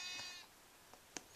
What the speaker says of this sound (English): And they say, "Bah!" once you're killing them.